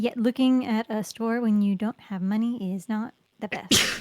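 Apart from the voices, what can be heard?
sneeze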